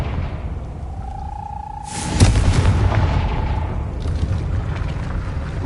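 A Confringo fire-blast spell bursts in Hogwarts Legacy with a loud, sudden boom, then settles into a sustained rumbling roar over steady background ambience.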